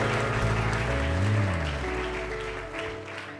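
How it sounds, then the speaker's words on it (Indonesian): A church congregation cheers and applauds for Jesus, a dense wash of clapping and shouts that swells and then slowly eases, with a sustained voice or tone rising and falling underneath. "Beri sorak-sorai untuk Tuhan Yesus"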